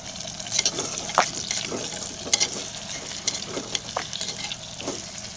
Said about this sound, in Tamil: வெங்காயம் நல்லா வதங்கின உடனே தக்காளி பழம் போட்டு நல்லா வதக்கிக்கணும்.